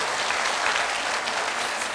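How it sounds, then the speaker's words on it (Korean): An audience at a lecture by an elderly philosophy professor applauds steadily, a dense even wash of many hands clapping with no gaps throughout. "박수 한번 부탁드릴게요."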